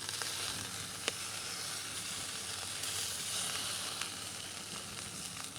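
Parmesan sliders sizzle steadily on a Kingsford 17-inch portable grill, a continuous bright frying hiss with a few faint pops and ticks throughout.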